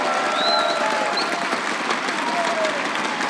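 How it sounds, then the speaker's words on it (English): Crowd applause fills the hall at a Rainbow Six US Nationals esports event in Las Vegas, a dense, steady clapping sustained throughout with faint cheers mixed in. "If I could get a round of applause for those guys again coming out here."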